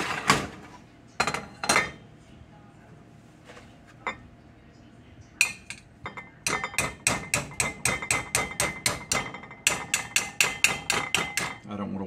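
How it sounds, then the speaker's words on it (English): A spatula scrapes and knocks against a bowl as southern-style mashed potatoes are cleared out, producing a quick series of sharp clinks and taps that speed into a steady rhythm, close up. "I've got a spatula to get this out of here."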